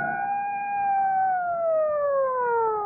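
A police car siren from old film footage of The Sinister Urge wails in a smooth, steady tone that slowly slides downward in pitch, loud and clear with no voices over it.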